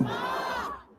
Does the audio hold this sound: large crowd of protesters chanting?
yes